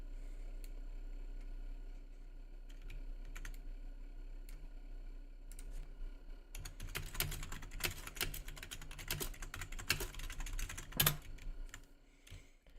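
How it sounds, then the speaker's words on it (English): Typing on a computer keyboard: sparse, scattered keystrokes at first, then a denser burst of rapid clicks and a few sharper taps, close and quiet over a low steady hum. "I completely messed up the typing there"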